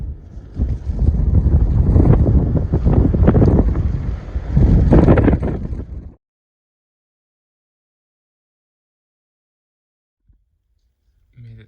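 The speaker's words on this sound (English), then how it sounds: "A little bit windy." Strong gusting wind buffets the microphone on Elbert Mountain at sunrise for about six seconds, loud and rough, then cuts to near silence with a faint thump at the end.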